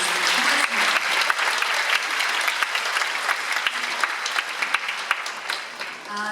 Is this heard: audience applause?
yes